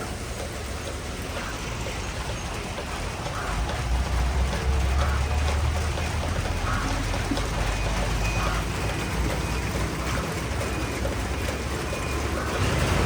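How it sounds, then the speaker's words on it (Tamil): Light rain falls steadily at a road junction in Vavuniya, a broad hiss with low traffic-like rumble growing slightly louder midway, no voices. "இது மழை வந்து கொஞ்சம் பெய்கிற மாதிரி இருக்குது இந்த இடத்துல"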